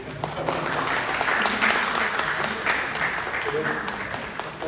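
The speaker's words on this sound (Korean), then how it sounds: "박사라는 말을 따라해도 막 박수가 터져 나오네요" A church congregation at Sunday worship in Dallas claps for a member's baptism, a busy sustained round of many hands with a brief surge partway through, and voices mixing in underneath.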